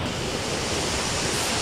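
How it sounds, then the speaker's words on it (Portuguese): Continuous broadband rush of a waterfall on a river inside a canyon, steady and fairly loud with no voices, the roar evenly filling the short stretch like close falling water. "Aqui tem outra cachoeira."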